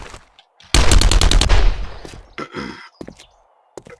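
Gunfire from turrets in the video game 7 Days to Die, a loud rapid burst of repeated shots lasting about a second, trailing off into scattered impacts and fainter game noises.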